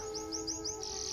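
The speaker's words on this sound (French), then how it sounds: "Voyez, c'est cet oiseau, son lino apprivoisé qui volait autour d'elle." A tame linnet chirps in an audio drama: four quick, bright rising chirps in a row, then a longer held trill. The sound is close and clear over a faint steady background hum.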